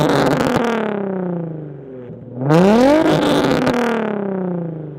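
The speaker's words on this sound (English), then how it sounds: "This exhaust still has a resonator to help cut down the rasp, but overall it goes without saying that this exhaust is crazy loud" Loud revving of a Nissan 350Z through a Tomei Expreme titanium exhaust with resonator, the engine holding high, dipping briefly, then rising sharply again in a raspy, close climb.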